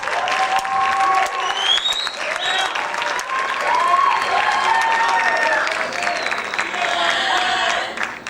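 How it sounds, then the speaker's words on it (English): Sustained applause from a large crowd at a high school jazz band concert, loud and steady throughout, with scattered cheers and whoops rising above the clapping. "Please give them another huge round of applause."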